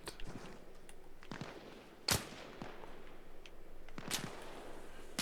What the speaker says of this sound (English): Still taking fire from somewhere.